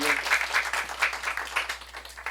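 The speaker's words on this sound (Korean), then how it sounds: "박수 보내주세요, 여러분" Student audience at a middle school youth debate forum applauds a debate speaker, steady dense clapping throughout at moderate level, without talk over it.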